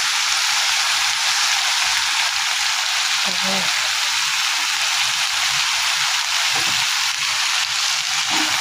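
Tomatoes sauté with rock salt in a pan, giving off a loud, dense, continuous sizzle and crackle that fills the space, with a few brief stirring knocks.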